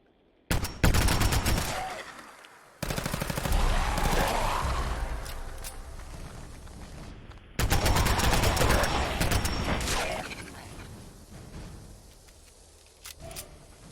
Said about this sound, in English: This would be that gun turret that I heard.